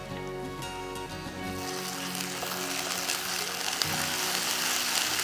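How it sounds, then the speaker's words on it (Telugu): Onion and ginger garlic paste fry in a pan with a soft, continuous sizzle that grows slightly fuller over the stretch, steady and fairly quiet with no talk. "జింజర్ గార్లిక్ పేస్ట్ రా స్మెల్ పోయేంత వరకు కుక్ చేసుకోండి"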